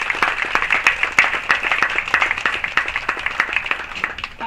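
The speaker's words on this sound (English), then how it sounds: "Give yourself a round of applause for the players, coaches, ball kids, everyone here." Sustained applause from the crowd at a college tennis championship, honoring the players, coaches and ball kids; dense steady clapping with a few sharp individual claps standing out, fairly close and continuous throughout.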